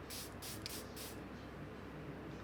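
Fenty Beauty setting spray pumped from a bottle, four quick close hisses in a row, then silence over faint room noise.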